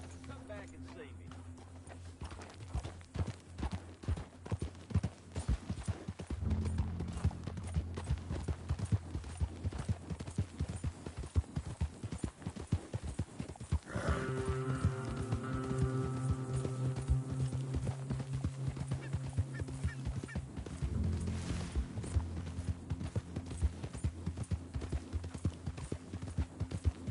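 Horse hooves clip-clop steadily at a walking pace in Red Dead video game gameplay, with a low droning tone and a voice briefly speaking over the hoofbeats.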